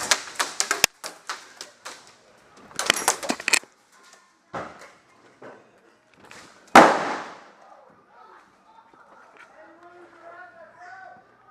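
Airsoft guns firing cover shots during an airsoft game at an indoor play site, heard as scattered sharp pops and short bursts, one loud crack close by, with people talking in between.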